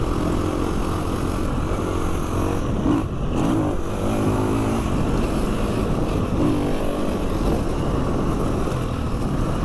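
A dirt bike engine droning steadily while riding along UK trails, loud and close throughout with slight rises and dips in revs.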